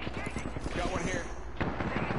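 Rapid video-game gunfire in Apex Legends, a dense stream of sharp, repeated shots under continuous shouting and talk, with one louder burst near the end.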